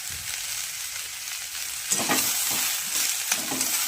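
Vegetable curry with green chili and salt frying in a pan, a continuous bright sizzle with stirring scrapes that grow louder and more frequent midway through.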